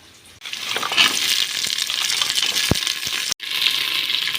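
Onions, green chillies, garlic and curry leaves fry in a pan for chicken kurma, a loud dense sizzle close by with a sharp metallic tap and a brief drop-out near the end.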